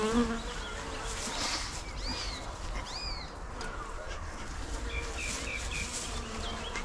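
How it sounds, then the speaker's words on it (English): Honeybees hum in a dense, continuous drone around an open hive during an inspection at night, with occasional chirps of birds in the distance and no voices. "There's a lot of bees in here because the field forces are returned because they don't fly at night."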